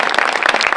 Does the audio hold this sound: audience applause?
yes